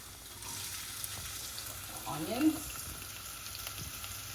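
Onions fry for chakalaka in a pan, giving a faint, low sizzle throughout, with a brief utensil scrape or clink midway and no talking.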